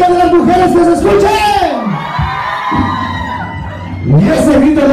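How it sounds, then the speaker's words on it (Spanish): A loud crowd of women at a band dance cheers and shouts, with high excited voices whooping together, briefly dipping before rising again into a full roar. "¿Dónde está esa bulla de las mujeres que se escuche?"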